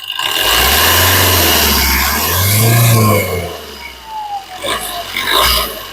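A 2019 Maruti Suzuki Swift Dzire LDI diesel car engine revs hard, its pitch climbing and falling through a couple of surges, loud and close throughout.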